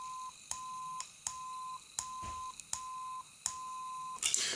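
Symmetric multivibrator circuit tone heard through headphones: a steady mid-pitched electronic beep repeating in even pulses, each broken by a sharp click, fairly clear and alone.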